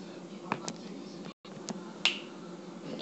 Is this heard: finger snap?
yes